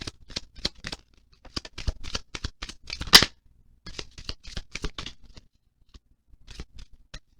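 Close, crisp flicks and riffles of a deck of romance angel oracle cards being shuffled by hand, in quick irregular bursts with one sharper snap midway and a few slower taps near the end, with no talk.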